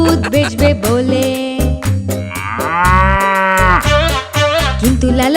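A cow lowing loudly and close by, with several drawn-out moos one after another and short gaps between the calls.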